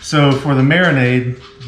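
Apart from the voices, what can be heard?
None of the usual background noises is heard.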